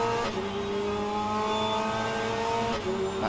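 Race cars launch off the grid at Brands Hatch in a touring-car racing video game, with a dense engine drone building steadily, faint tire noise and a brief burst near the end, heard without commentary.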